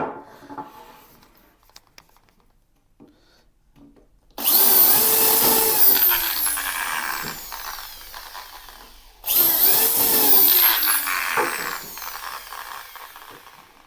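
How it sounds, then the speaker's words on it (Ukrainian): A power drill boring holes through PVC ceiling rail to keep the plastic from cracking, with two loud, sustained bursts of drilling separated by a short pause and no talking. "сверлю отвори, тому що коли буду закручувати шуруп, щоб її не розкололо"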